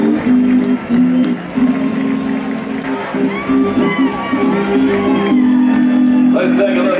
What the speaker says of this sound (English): Ladies and gentlemen, would you send them out with a nice round of applause?